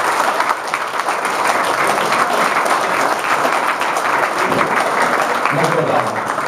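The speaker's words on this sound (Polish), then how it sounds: "Serdecznie brawa jeszcze raz. Brawa." Loud, sustained applause from a crowd at a regional cooking competition in Bydgoszcz, honouring the first-place chef, with a presenter's voice speaking over the clapping.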